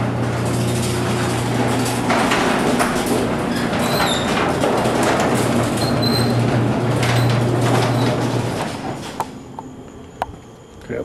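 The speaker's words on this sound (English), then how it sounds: "loud garage door." A loud garage door rumbles and rattles as it opens, a steady mechanical grind with a humming motor that runs for several seconds, then cuts off and leaves a quiet room with a few faint clicks.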